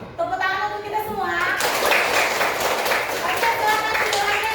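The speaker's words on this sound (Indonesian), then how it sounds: "Oke, tepuk tangan untuk kita semua." Children in an Indonesian classroom break into rhythmic clapping after a teacher's spoken prompt, a dense burst of many small hands that continues steadily to the end with young voices mixed in.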